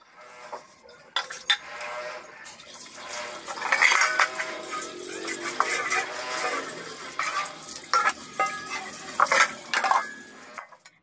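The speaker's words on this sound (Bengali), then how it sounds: "এবারে কড়াইটা হচ্ছে ভালো করে মেজে নেব।" A soot-blackened kadai, a metal wok, being scrubbed clean, with rough rhythmic scouring scrapes, metallic clanks and rattles, and brief knocks against other utensils, close and fairly loud, with no speech.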